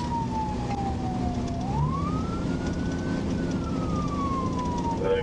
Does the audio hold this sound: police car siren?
yes